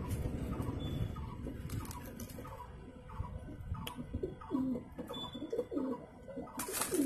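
White desi pigeons coo softly in repeated low, rounded calls, close by over a steady background of ticking and shuffling, with no one talking.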